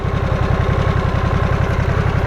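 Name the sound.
Harley-Davidson Nightster motorcycle engine idling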